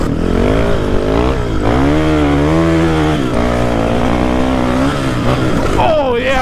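Dirt bike engine revving loudly while riding on a dirt trail, a close, continuous buzzing drone whose pitch rises and falls with the throttle throughout.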